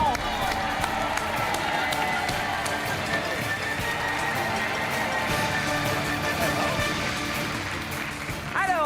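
A TV game show studio audience applauds and cheers as contestants leave, a dense continuous patter of clapping under a crowd murmur with people talking over it.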